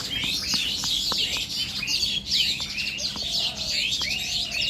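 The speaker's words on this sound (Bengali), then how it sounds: "দেখো দেখো কতগুলো পাখি চিচাইছে।" A crowd of birds chirps and tweets around a village field, with dense overlapping high calls close by, a few sharper single notes and a low background hum.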